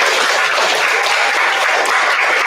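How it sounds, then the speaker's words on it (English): A school audience at a third-grade spelling bee gives a steady, full round of applause that stays loud and dense from start to finish. "let's give them a round of applause"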